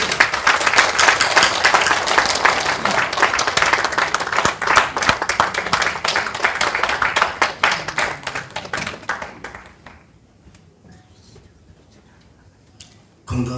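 Audience applause welcoming boxing world champion Hong Soo-hwan at a documentary screening event, a dense, steady burst of clapping that fills the room for about nine seconds before thinning out and fading to near silence.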